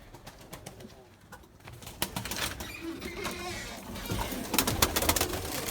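Erzurum white pigeons flying and cooing, with soft coos, wing flaps and clattering sounds at close to middle distance over steady outdoor background noise.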